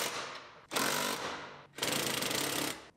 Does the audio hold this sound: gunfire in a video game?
no